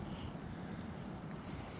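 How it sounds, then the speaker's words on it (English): Strong wind buffets a Berghaus Peak 3.1 Pro tent while camping alone in the woods, a dense, steady low roar with no talk. "it's really windy outside"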